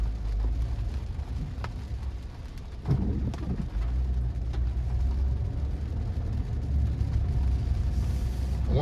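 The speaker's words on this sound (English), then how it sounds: "As you can see right now, it's raining." Rain falls during a drive through Olympia Heights, Florida neighborhoods ahead of a hurricane, a steady soft patter over a low engine rumble inside the car, with a few faint bumps and occasional bird calls.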